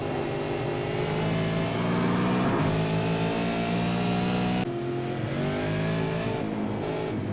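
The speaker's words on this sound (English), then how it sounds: "there is Blackhall as they come into Old Hall Corner" Racing cars accelerate through Old Hall Corner during a race, their engines holding a loud, close, buzzing drone with pitch rising and shifting as they pass in turn, no voices heard.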